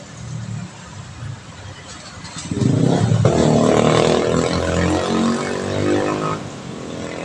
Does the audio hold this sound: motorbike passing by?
yes